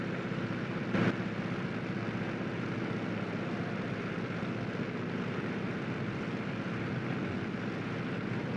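Engine of a Grumman F6F-5 Hellcat in Microsoft Flight Simulator 2020, a steady, even drone heard from the cockpit with one brief click near the start.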